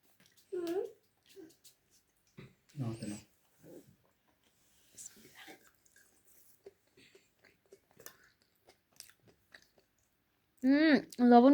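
Someone chewing food while eating a home-cooked dinner, with soft, intermittent mouth sounds in scattered bursts. Speech-like vocal sounds come at the start and again at the end.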